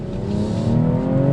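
A 2018 BMW X3 M40i engine revs loud and close in comfort mode, a steady rising drone with no talking over it.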